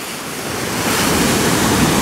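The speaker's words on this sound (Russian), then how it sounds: "Сейчас я немного дам вам еще море послушать." Sea waves break on the shore in a rising, washing rush of surf that swells and holds loud and close, with no talk over it.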